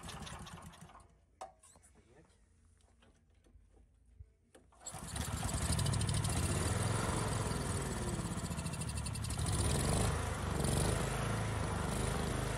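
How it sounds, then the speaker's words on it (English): A gasoline generator running on wood gas sits quiet except for clicks and brief sputters, then restarts abruptly and runs on as a loud, steady, buzzing engine close by for the remaining seconds. "My colleagues stopped the gasoline generator especially for the audience by blocking the air inlet to the mixer with the palm of his hand"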